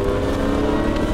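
A Porsche 997 accelerates on a race track, its engine a loud, continuous roar heard from inside the car.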